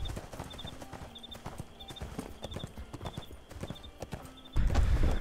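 Horse hooves clip-clop in a steady, even rhythm in the ArcheAge: Unchained video game, moderately close, with game music behind them and a louder rumbling burst near the end.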